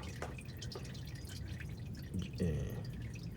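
Transmission fluid drained from a Toyota RAV4 2.5 drips into an empty marked oil container, a few soft close splashes and drops over a low background hum.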